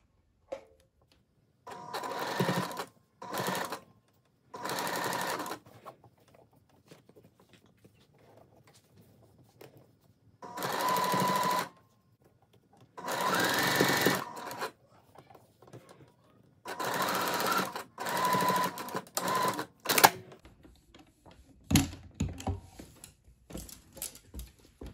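A sewing machine basting the seam of a floral sundress in several separate runs, each burst a steady mechanical whirr that starts and stops, close and fairly loud, with quiet pauses between.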